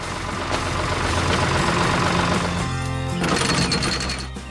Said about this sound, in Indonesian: Traktor itu sedang bekerja keras membajak tanah agar siap ditanami benih-benih yang